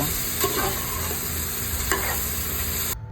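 Chopped onions and dried black lemons fry in a pan for Yemeni kabsa, a steady close sizzle with scraping stirs throughout, cutting off abruptly at the end.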